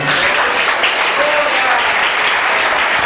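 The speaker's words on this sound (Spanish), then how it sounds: "Dale un aplauso al Señor" Steady, dense clapping from a large church congregation, loud and continuous throughout with no pauses.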